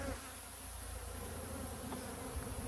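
Honeybees buzz around a split hive colony, a dense steady hum close by with no voices.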